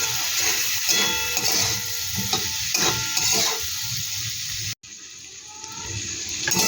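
Egg chili mixture with chili powder, cumin and salt frying in a pan, a steady close sizzle and crackle with scraping stirring strokes, a brief cut near the end, then the frying continues.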